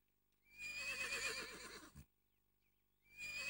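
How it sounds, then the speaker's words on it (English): A horse lets out a long, shrill whinny that trembles and fades, then after a pause another neigh begins, close and clear. "Just then, Jeremy began to whinny and neigh."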